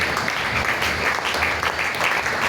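Crowd at a youth church symposium applauding and cheering, a dense, steady wash of clapping close by that holds throughout.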